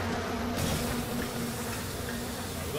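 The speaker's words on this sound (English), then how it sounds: "I wonder if there's any way to just take out the bees." Bees buzz steadily in BioShock Remastered, a continuous droning hum that stays loud and even throughout with no talk over it.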